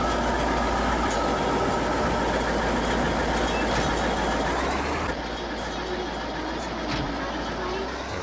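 An old farm tractor engine runs steadily from inside the cab, a continuous low rumbling drone with a slight shift in tone midway as the tractor drives along.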